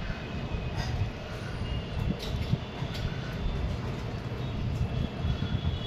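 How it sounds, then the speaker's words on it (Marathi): A distant airplane coming in to land near Mumbai, seen from a hilltop, giving a faint, steady low rumble and hiss in the open air, with no talking. "प्लेन बघा लँड होतं आता."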